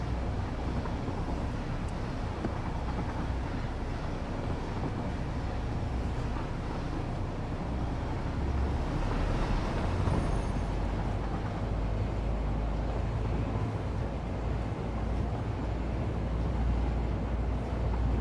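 A train engine in the video game Satisfactory labours up a grade hauling a load of heavy modular frames, a loud continuous low rumble and drone that holds steady throughout without speech.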